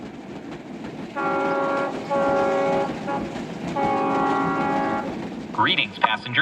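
A train rolling past with a rhythmic clickety-clack of wheels on rails and a sustained horn-like tone sounding in several long bursts, busy rumbling underneath, ending with a brief higher chime.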